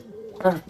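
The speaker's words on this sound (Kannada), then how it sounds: "ಅದು ನಂದು ಪಾರಿವಾಳ ನೋಡಿ" Low, soft pigeon coo from a kept pigeon, brief and close, set against quiet background noise and a voice speaking.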